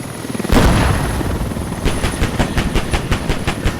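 Military helicopter in the video game Squad, a loud rotor roar that swells in abruptly and then settles into a steady rhythmic blade chop, close and alone.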